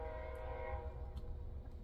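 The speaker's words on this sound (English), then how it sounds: "that's a train going by" A train passing at a distance with its horn sounding, a faint sustained horn tone over a low rumble of rolling rail cars that continues after the horn fades.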